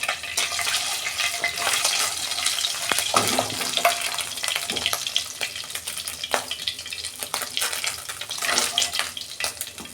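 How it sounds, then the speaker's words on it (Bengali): Black cumin seeds frying in hot oil in a pan previously used for lightly frying pabda fish, a continuous close sizzle with scraping stirring sounds and occasional sharper clicks throughout. "কালো জিরে দিচ্ছি ওই তেলে।"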